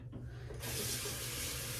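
A water tap running into a sink, a steady rushing flow that swells louder partway through as the stream strengthens, close and continuous with no talking.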